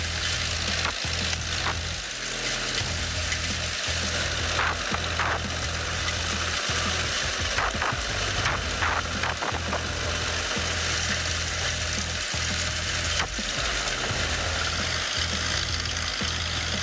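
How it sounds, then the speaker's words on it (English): A Hyzohack HM14 800K industrial wood chipper, an older machine used in wood chip production, runs steadily with a loud, continuous mechanical roar and dense rattling throughout. "this Hyzohack wood chipper has been used for many years, it still operates strong and durable"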